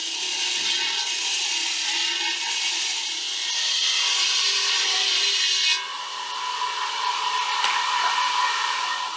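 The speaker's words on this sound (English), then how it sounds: "The first step is to cut the salt blocks into smaller pieces using a specialized saw" A specialized saw cuts Himalayan salt blocks in a mine processing plant, giving a steady, loud, high-pitched grinding whine that runs continuously, with a brief shift in tone partway through.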